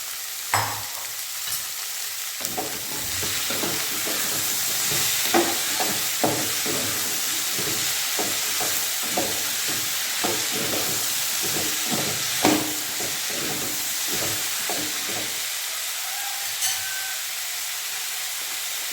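Ivy gourd (kovakkai) stir-frying with onion in a pan, a steady loud sizzle broken by frequent rhythmic scraping and stirring clatters across the whole stretch, with no talking.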